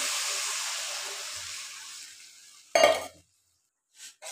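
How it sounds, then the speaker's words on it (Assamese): Curry frying in a pan with jackfruit-seed potatoes, steady sizzle fading as water is poured in, then a sharp clatter and a few brief stirring scrapes close by. "এতিয়া মই পানী দি দিম আমাৰ যিখিনি লাগে আন্দাজত।"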